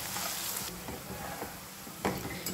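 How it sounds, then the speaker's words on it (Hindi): Onions browning to dark brown in a hot pan give a steady, close sizzling hiss with brief crackling pops, heard on their own with no talk. "5-10 सेकंड इसे हम और फ्राई करेंगे।"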